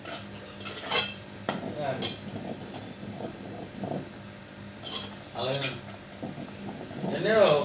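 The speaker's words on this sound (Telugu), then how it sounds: "తిప్పుకుంటూ ఉండాలండి అడుగంటకుండా" Sweet sugar pongal is being stirred in a pot, with a metal spoon scraping and clinking against the pot in irregular bursts while someone talks over the kitchen sounds.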